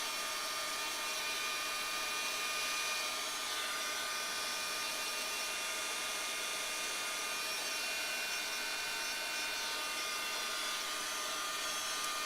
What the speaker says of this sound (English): I'm going to hit this with a little bit of heat to hopefully get it dry so that we can trim it apart.